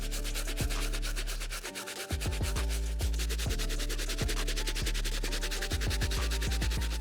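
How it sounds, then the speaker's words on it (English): A medium bristle brush scrubs the white leather stitching of an Air Jordan 1 Mocha Low sneaker, giving close, steady, rapid back-and-forth rubbing strokes that run continuously without a break. "I'm gonna be using this brush on the white areas once again."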